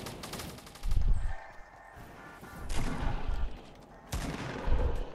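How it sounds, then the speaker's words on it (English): Gunfire in Fortnite Battle Royale comes in three loud, rapid bursts of rattling automatic shots, each lasting about a second, separated by quieter gaps. "now they're shooting it"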